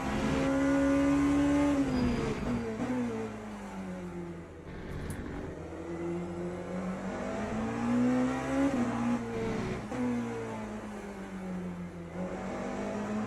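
Porsche race car in Le Mans Ultimate, its engine droning loud and steady with rising and falling pitch as it accelerates and brakes through corners, with a brief downshift dip near the middle.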